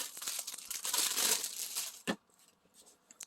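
Packaging of an AGTEK set of 48 watercolor pencils being opened, loud plastic crinkling and crumpling for about two seconds, then a sharp tap and quieter scattered rustles.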